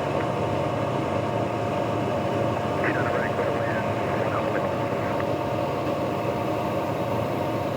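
Sling High Wing light airplane engine at full power before takeoff: a loud, steady propeller and engine drone filling the whole stretch, with faint radio chatter underneath.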